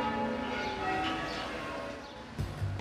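Church bells ringing a full peal, overlapping bell tones sounding steadily and moderately loud, with a brief thud near the end.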